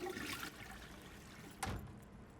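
A toilet flushes with a broad rushing wash of water, followed by a brief louder gush near the end, fairly close and without speech.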